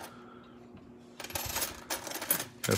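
Coins clink and jingle in bursts of metallic rattling as they are shuffled and handled close by, after a quiet start.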